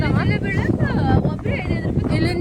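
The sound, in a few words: strong wind blowing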